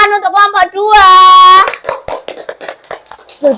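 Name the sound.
applause for group 2 in a classroom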